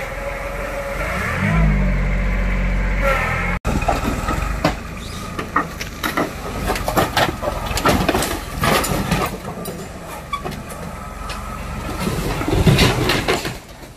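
Heavy machine engine revving hard while tearing apart a travel trailer for scrap, a loud sustained roar at first, then a sharp cut into clattering, crunching bursts of metal and debris under the running engine.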